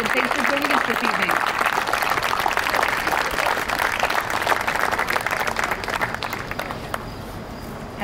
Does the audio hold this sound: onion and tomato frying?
no